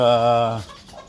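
A Butcher gamefowl rooster gives one drawn-out, tonal clucking call up close that breaks off after about half a second, followed by faint quieter sounds.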